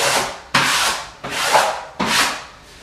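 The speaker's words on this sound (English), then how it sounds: "I take my smoother again, very lightly, smooth it down, feeling with my hands that there's no air" Paper smoother brushed lightly over freshly hung wallpaper, four steady rhythmic rubbing strokes, near and fairly loud with no talk.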